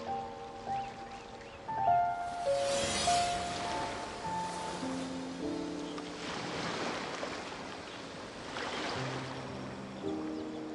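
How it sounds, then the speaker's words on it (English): Calm ocean waves in the video game Genshin Impact, a soft, continuous wash of surf swelling gently in slow surges beneath quiet, sustained musical tones. "Waves are as calm as always."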